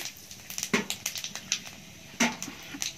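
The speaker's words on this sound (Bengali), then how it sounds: "তেল গরম হয়ে গেছে, দিয়ে দিলাম একটা শুকনো লঙ্কা আর 5 ফোড়ন" Dried chilli and five-spice seeds crackle and pop in hot oil in a kadai over a clay stove, with sharp irregular spits and snaps close by and no talk.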